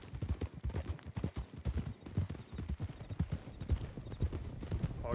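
Rapid clip-clop of horse hooves on hard ground in a video game, a steady galloping rhythm close by, with a brief neigh near the end.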